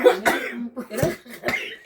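Several short, harsh coughs in quick succession, close up, with a voice murmuring between them.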